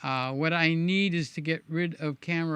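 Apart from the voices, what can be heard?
None of the usual background noises is heard.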